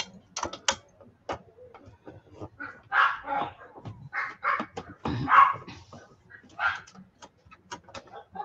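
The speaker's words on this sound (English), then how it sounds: "Listen to her barking in there." A dog barks repeatedly from inside a room nearby, short sharp barks scattered in irregular bursts, fairly quiet and heard alone.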